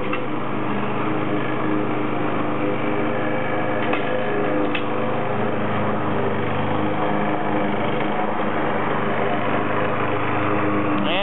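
A small radio-controlled lawnmower runs steadily throughout, its engine a continuous buzzing drone with a brief knock near the middle, heard alone without talk.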